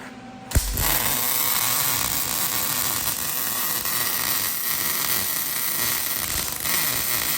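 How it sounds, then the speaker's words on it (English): Welding on go-kart seat bracket tabs gives a steady, loud crackling buzz that runs without a break for about seven seconds after a short click at the start, with no talking. "So Russell's gonna weld them up now so that we can install our seat."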